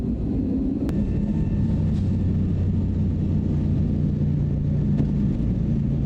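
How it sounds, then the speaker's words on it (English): An airliner departing for Oslo rolls down the runway, heard from inside the cabin as a loud, steady, continuous rumble with no let-up. "We have this one rolling, and another one coming in on a parallel runway."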